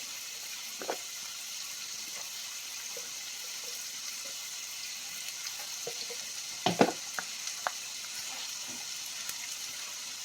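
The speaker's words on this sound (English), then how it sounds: "We're gonna put our ground turkey meat on top." Ground turkey meat sizzling in a pan, a faint steady hiss with a few sharp clatters and scrapes of stirring partway through.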